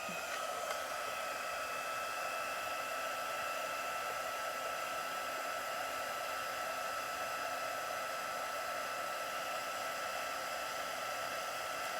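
A heat tool blows a steady, even hiss of hot air at close range onto embossing powder on a paper Halloween treat bag, with no break for the whole stretch and no voices over it.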